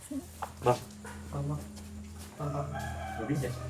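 A chicken crows and clucks in short bursts close by, mixed with people talking over it.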